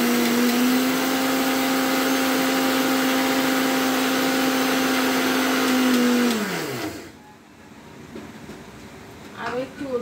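An electric grinder pulverizing dry Fortune rolled oats runs loud and steady with a high whine for about seven seconds, then winds down and stops, leaving quiet with a few faint clinks.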